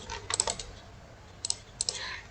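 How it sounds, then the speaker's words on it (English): Computer mouse clicks at a desk during software work, a few crisp, close double clicks spaced apart over a quiet background. "you right click on your mouse"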